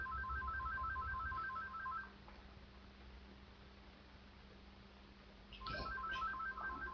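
Telephone ringtone chiming in a quiet indoor room, a repeating electronic pattern that plays for about two seconds, pauses under steady background hiss, then resumes near the end.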